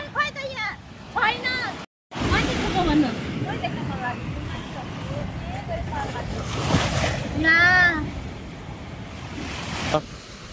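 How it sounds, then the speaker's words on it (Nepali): Big sea waves crash and surge on a beach in Italy, a loud continuous wash with wind buffeting the microphone, while people talk over it throughout. "एकदम धेरै पानीको छाल आएको कारणले हेर्नै नहुने रहेछ"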